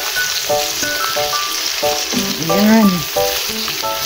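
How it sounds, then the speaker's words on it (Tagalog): Onion and garlic sauté in a hot pan for ginisang ampalaya, giving a steady, close, loud sizzle throughout while a voice speaks intermittently over the frying. "igisa po natin ng sibuyas at bawang guys"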